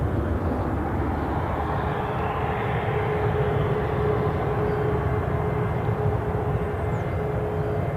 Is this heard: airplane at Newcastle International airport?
yes